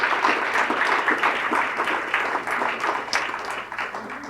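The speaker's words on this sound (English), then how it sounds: "Let's give a round of applause to Stephanie and Darren for all they do to make this work." An audience applauds at a Cleveland summer youth employment program event, steady dense clapping from many hands continuing for several seconds at an even level.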